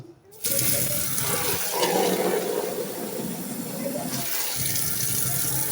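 Water gushes steadily into a container holding madre de cacao cuttings, a continuous splashing rush that starts abruptly and runs loud and close.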